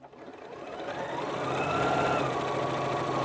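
A Janome computerized sewing machine stitches a reinforced corner on a 5/8 inch seam, a steady close mechanical whir that rises and holds at an even pace without talk.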